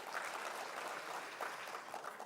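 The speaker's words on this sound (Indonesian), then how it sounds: "Tepuk tangan untuk Apexi." At the launch of the Indonesia City Expo, an audience gives soft, distant applause, a quiet continuous patter of many hands.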